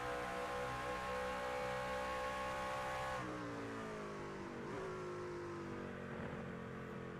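A racing truck engine in the iRacing video game, held in third gear through a chicane on a road course, drones loudly and steadily with harmonic whine, then drops in pitch and rises again as the gear holds, with no talking.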